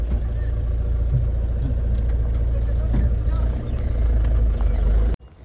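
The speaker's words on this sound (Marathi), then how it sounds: "चला टेम्पो फिरून घेऊया आता." A small goods tempo truck drives along with a steady, low engine rumble that holds loud and even, with voices talking over it, before the sound cuts off abruptly at the end.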